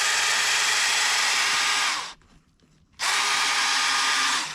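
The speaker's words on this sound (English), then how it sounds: "I use an auger." Power auger boring a dirt hole in the ground for a trap set, a loud, steady whirring drone that cuts out for about a second and then resumes at full strength.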